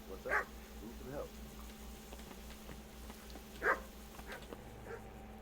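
A dog in the Kingdom Come: Deliverance video game barks in a few short, separate bursts, one near the start and another toward the end, heard at moderate distance over a low ambient hum.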